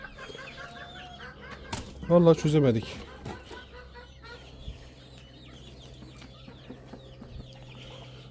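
Chickens cluck in a backyard garden with chicks, with a short loud burst of squawking in the middle and softer clucks scattered throughout, while someone talks over them.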